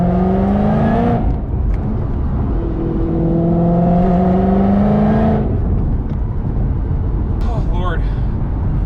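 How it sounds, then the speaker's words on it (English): A built 1000hp Mustang GT500 with a supercharger gives off a loud, steady whine, with rising engine tones that climb, drop near one second and climb again. A person talks over it throughout. "all you hear is supercharger whine the whole time"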